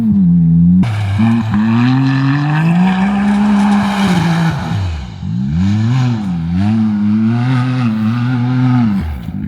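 A CFMOTO Z10 UTV with added injectors and a blow-off valve, running 27 PSI of boost, revs loudly and close: the engine note climbs and falls in repeated pulls, with whooshes and hiss between revs.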